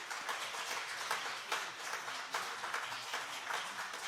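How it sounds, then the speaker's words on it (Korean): Members of a church congregation at a 70th-anniversary ordination and retirement service give a round of blessing applause, a soft, distant, continuous patter of many hands. "우리 성도들 다시 한번 축복의 박수 해 주시겠습니까?"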